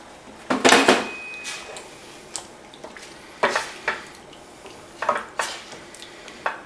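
Tomato sauce poured into a pot and stirred, heard as scattered metallic clinks and scrapes of a utensil against the pot, with a louder clatter at the start, close and fairly quiet.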